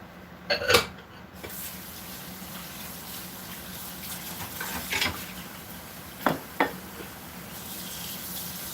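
A mixing bowl is rinsed under a running kitchen tap, a steady close stream of water with a few brief clunks and splashes as the bowl shifts.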